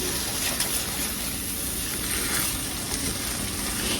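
Fresh corn frying in a pan just above medium heat while making cream corn, a dense, even sizzle and crackle, close and continuous throughout, with no speech.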